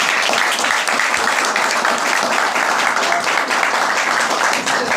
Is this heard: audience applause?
yes